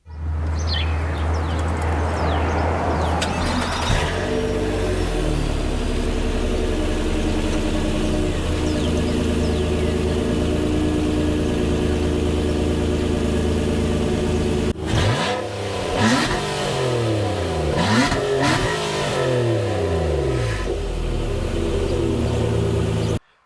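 A 2018 Nissan Maxima S engine started remotely by key fob: a loud, continuous engine drone with revving swells, one early on and several repeated surges in the latter half, with no talking.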